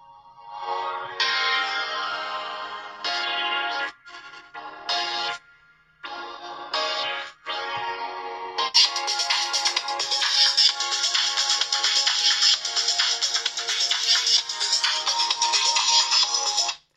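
A loud, slightly harsh ringtone melody plays through the small, low-quality loudspeaker of an Oukitel WP20 phone, starting in short phrases with pauses and then ringing continuously.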